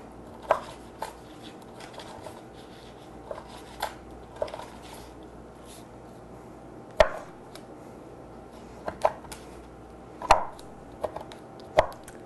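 A knife chops food on a cutting board in a home kitchen, with sharp, irregular knocks every second or two over a steady low background hum, close and fairly loud, with no talking.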